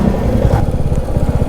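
Royal Enfield Meteor 350 motorcycle riding over a bridge in Sikkim, a loud, close single-cylinder engine thump with rapid regular pulses under wind noise.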